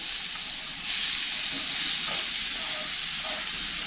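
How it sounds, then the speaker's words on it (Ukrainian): Steady, bright sizzling of onion frying in oil in a pan fills the clip, with occasional soft stirring noises and no talk. "наливаю зо 2-3 столові ложки олії. І обсмажую цибулю"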